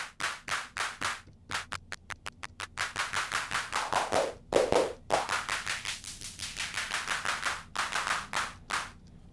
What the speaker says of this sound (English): kind of reminds me of an 808 type of clap